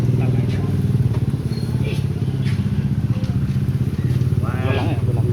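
A motorcycle engine idles close by with a steady, throbbing low putter, running continuously while people chat over it.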